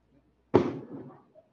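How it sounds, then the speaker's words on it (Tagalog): A single firework bursts outside, a sudden muffled boom with a short rumbling tail, then quiet. "ano po yan? Fireworks?"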